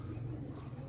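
A female Sialkoti pigeon gives a low, soft, continuous coo that stays faint and close through the moment, with no talking heard.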